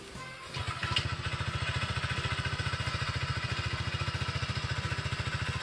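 A Honda ADV160 scooter with an aftermarket muffler idles nearby, its exhaust putting out a steady, rapid, even putter after a brief rev at the start.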